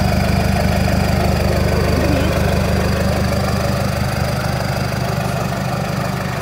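A four-cylinder Ford F-250 pickup idles steadily through a modified exhaust with a new tailpipe tip, a deep, throaty rumble with fine rapid pulsing, continuous and close.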